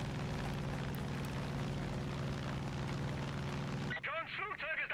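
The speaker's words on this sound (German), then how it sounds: "Johns Flugzeug ist abgestürzt." A plane crash in the video game Far Cry 5: a dense, roaring rumble of engine and blast noise fills the first four seconds, then cuts to a quieter scene with a voice speaking.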